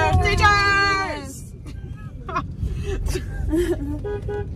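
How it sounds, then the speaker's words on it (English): Car horn honking in support of striking teachers in Los Angeles, one long loud blast at the start, followed by excited voices and cheering in the background. "We got a honk for them."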